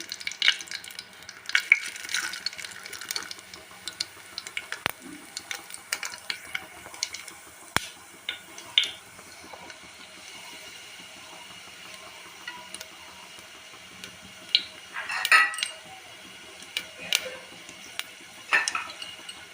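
Bay leaf, dried red chilies and cumin fry in hot oil with a faint steady sizzle, while a spoon occasionally stirs and taps the pan, quiet and close, with no talking.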